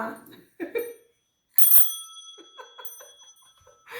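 Bell ringing as a sound effect, bright metallic rings with a lingering tone that arrive mid-clip, surrounded by brief bursts of talk before and after.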